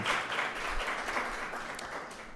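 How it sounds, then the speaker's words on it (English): Audience applauding the two government-agency debate teams at a moot debate, a steady dense wash of clapping at moderate distance that holds evenly throughout. "So a round of applause is indeed deserving."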